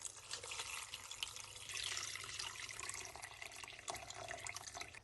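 Boiling water pours steadily into a pot of Iraqi chicken biryani with turmeric, cinnamon, bay leaves and whole spices, a continuous close splashing gush with no talk.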